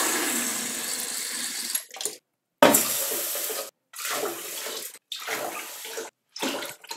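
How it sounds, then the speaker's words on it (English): Water pours steadily into a pot of rice for cooking stir fried rice, a continuous rushing splash that breaks off and resumes in several bursts, close and fairly loud with no talk. "Then I'm going to add 4 cups of water"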